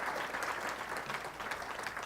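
An audience at a patient panel event applauds its sponsors and committee, a steady, even wash of many hands clapping together, moderately distant and sustained without a break.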